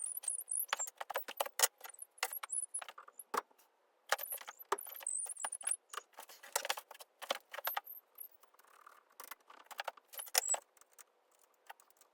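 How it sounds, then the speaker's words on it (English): A torque wrench is used during a steel-frame New Albion Privateer rim-brake bicycle build. Many close, sharp metallic clicks and light jangles come in quick irregular bursts with short pauses, and nobody speaks. "Click! That's my torque wrench."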